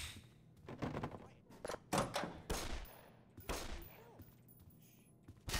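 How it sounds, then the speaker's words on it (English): Bursts of gunfire from a Half-Life mod game fire in quick, uneven volleys at moderate loudness, with short gaps and thuds between them and faint voices in the background. "What the hell are you shooting at, man?"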